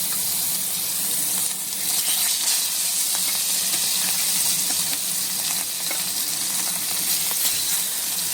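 Fish fries in hot oil in a wok, a dense, steady hissing sizzle with scattered spatters and light clatter running throughout, no one speaking.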